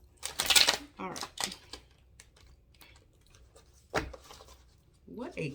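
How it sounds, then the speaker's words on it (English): Tarot cards are shuffled in quick riffling, flapping bursts, with a few cards slapping down near the microphone, while a person talks in between. "What a crappy shuffle."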